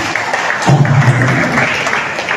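A congregation at an El Shaddai chapter prayer meeting service in Lower Bicutan bursts into dense, steady applause that fills the room, with a brief vocal tone near the start.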